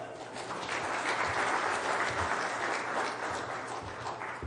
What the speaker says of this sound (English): A big applause for Ralph